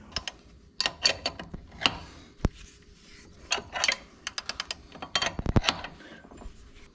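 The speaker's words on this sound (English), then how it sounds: "Used a puller tool for the steering pump." Puller tool working a power steering pump pulley off a Ford 3.8 V6 supercharged engine during a teardown, giving irregular close ratcheting clicks and metallic taps spread across the whole stretch, with no speech.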